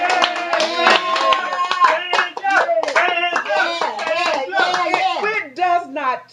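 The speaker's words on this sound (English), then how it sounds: "Applaud" Audience members clap their hands in uneven bursts, close and fairly loud, mixed with voices talking or singing throughout.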